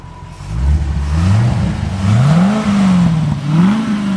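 A stock 1991 Chevrolet Corvette ZR-1 V8, heard close from the rear, rumbles loudly with repeated rises and falls in engine speed as it is revved, a deep throaty exhaust note with no talking.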